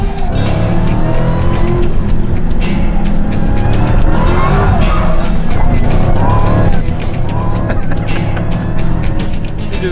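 A race car is driven hard into the first turn of a track, with a loud, continuous engine roar and sustained tire squeal and skidding as it brakes and corners. Other cars run close by.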